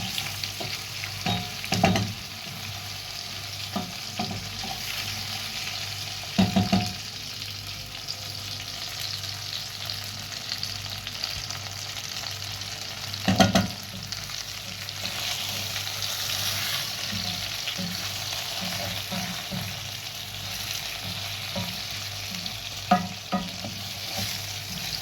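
Broiler chicken stew being stirred in a sufuria, with a soft continuous sizzle and occasional louder scrapes and knocks of the spoon against the pot, heard close and otherwise quiet.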